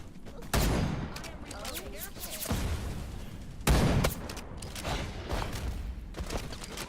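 Sustained gunfire from the video game Wild Assault, with loud bursts of rapid automatic fire and sharp, heavy shots that come in waves and stay close and dominant throughout.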